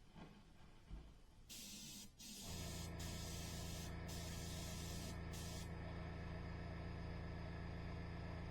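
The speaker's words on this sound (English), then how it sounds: "Okay, very light mist of blue." Airbrush spraying a very light mist of blue paint while prepping a Skyshark P-40 model kit, a steady close hiss that starts in short bursts and then runs continuously over a low compressor hum.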